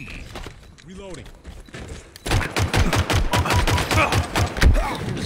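Assault rifle fire in Halo Infinite multiplayer, a rapid, close burst of repeated shots starting about two seconds in and continuing to the end, following quieter game sounds and a brief voice.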